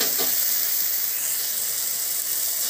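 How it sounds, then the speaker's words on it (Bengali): Fried masala for a raw rohu fish malai curry hisses and sizzles loudly and steadily as coconut milk goes into the pan, a dense unbroken frying hiss with no talking. "এবার এর মধ্যে আমি দিয়ে দেবো নারকেলের দুধটা"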